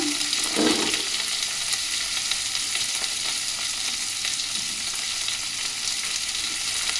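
Turnips sizzle in hot oil with cumin, a steady close hiss of frying that holds evenly throughout, with a faint clatter near the start and no talking.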